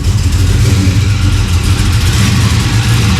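Loud, steady rumble of a car engine running at idle close by after a catch can install, continuous and even with no speech.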